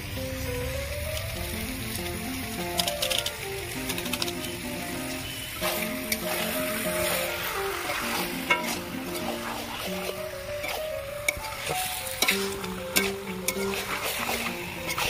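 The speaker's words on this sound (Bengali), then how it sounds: "নাড়াচাড়া করে নিয়েছি" Chicken curry with chicken curry masala and meat masala, cooked with goat fat, is stirred in a pan, giving a steady sizzle and scraping that sits under continuous background music throughout.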